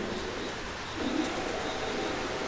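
A pair of pigeons for sale coo softly against a steady background hum, with a low, brief coo rising near the middle and no speech.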